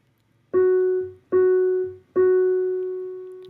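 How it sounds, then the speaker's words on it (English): Three piano notes on the same pitch are struck one after another, the last held longer as it slowly rings out. "So if I was going to play this on the piano,"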